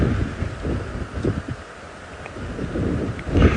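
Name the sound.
wind bringing rain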